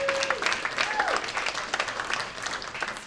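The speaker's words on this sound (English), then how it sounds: "round of applause proactively for my teammate Annie." An audience at a San Francisco tech demo night breaks into steady applause, a dense spread of clapping filling the room, with a brief voice heard at the start.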